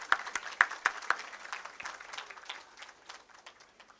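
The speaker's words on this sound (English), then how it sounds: "Please give a big round of applause." An audience at a startup fireside chat event claps in a scattered burst that starts with several distinct hand claps and thins into softer, faint applause over a few seconds.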